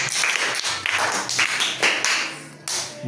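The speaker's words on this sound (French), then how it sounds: "Acclamation pour notre jeune talent." Audience applause greeting a young performer at a church youth talent event in Mbuji-Mayi, a dense run of claps filling the room for about three seconds with scattered sharper taps and a short dip near the end.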